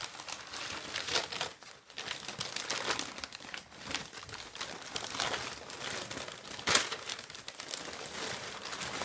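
Brown packing paper crinkles and rustles steadily while a boxed 1986 Playmates Cricket talking doll is unpacked, with dense close crackling and a few sharper crunches throughout.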